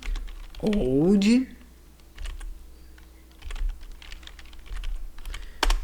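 Computer keyboard typing out an npm command on a Debian system, with quick, close clicking keystrokes in irregular bursts; a voice speaks briefly near the start.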